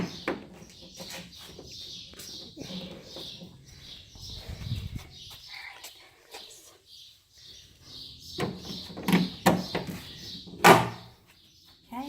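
A Blue Bird school bus entrance door is worked open during a pre-trip check, with soft clunks and a sharp rattling bang near the end, while birds chirp outside and muffled speech is heard faintly.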